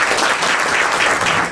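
Steady applause from a seminar audience welcoming speakers at a creative economy event in Ontario, a dense, even wash of many hands clapping throughout.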